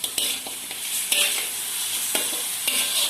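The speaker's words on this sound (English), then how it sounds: "Stir all this well." Oil and ingredients for chicken curry are stirred in a hot pan, with repeated scraping strokes over a continuous close sizzle.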